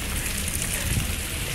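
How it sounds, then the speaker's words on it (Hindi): Heavy rain falling in Wah Cantt, a steady, loud broadband wash of downpour that holds evenly throughout with no pauses. "बहुत तेज़ बारिश है और बहुत ही प्यारा मौसम है"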